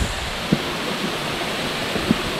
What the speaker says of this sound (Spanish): Vean qué buena cascada.